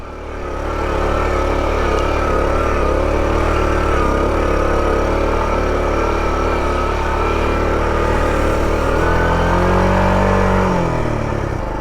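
A 1984 Honda Trail 110 motorcycle engine labours steadily under load while climbing a hill in low range, a loud continuous drone that shifts in pitch near the end.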